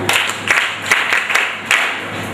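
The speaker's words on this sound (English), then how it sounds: "We're going to clap for her." A group of children claps for a girl, a burst of fairly close, uneven hand claps with several sharper accented hits, carrying on at a steady level without talk.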